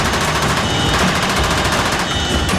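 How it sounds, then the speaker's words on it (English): Guns on Australian Chinook helicopters firing during the approach to a landing zone, a dense, loud, continuous rattle of rapid automatic fire over heavy rotor and engine noise. "the Chinooks fire their guns as the landing"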